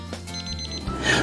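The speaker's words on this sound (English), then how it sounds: "When the dot alarm sounds, remove your prime rib from the oven." ThermoWorks DOT thermometer alarm going off at the end of a prime rib roast: a short burst of rapid, high electronic beeps, moderately faint over background room noise.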